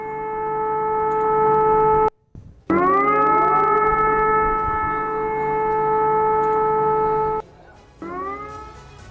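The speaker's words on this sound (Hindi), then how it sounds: "सायरन की आवाज भी सुनिए आप।" A loud, steady siren wails on a sustained tone, cutting out briefly twice and then rising back in, with no talking over it.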